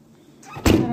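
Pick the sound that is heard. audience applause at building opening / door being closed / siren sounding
door being closed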